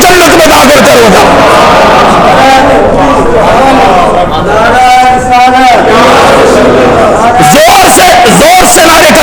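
Large religious gathering roaring back a chant in unison, loud massed voices swelling and overlapping across the whole stretch with shouts rising near the end.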